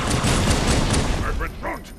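Dense gunfire from the video game Halo 2, a steady fusillade of rapid shots filling the whole stretch, with a voice speaking briefly over it toward the end.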